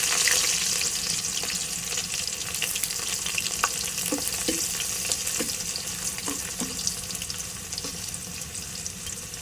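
Garlic and onion, with slit green chilies, sizzle in hot oil for khichuri, a steady close crackle broken by occasional clinks of a stirring spoon against the pot.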